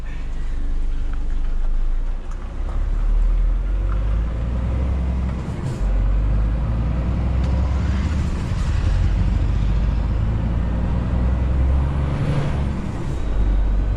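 Heavy Scania truck rumbling in reverse on a road, a steady loud low engine drone throughout with occasional air-brake hiss and mechanical clatter, no talking.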